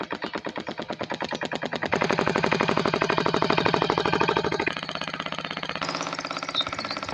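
Stirling engine generator running with its belt off, a rapid, loud mechanical clatter of fast repeating beats like a machine gun, shifting pitch and intensity a few times as it keeps going.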